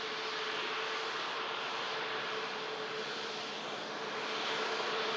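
Lufthansa Airbus A319 at Manchester Airport gives off a steady, broad engine roar with an even tonal hum, constant in level throughout, heard from some distance without voices.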